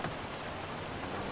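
Rain falls in the video game GTA 5 as a soft, steady hiss of drops hitting surfaces, faint and even across a short stretch with no other sounds.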